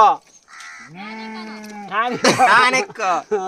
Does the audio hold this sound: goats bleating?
yes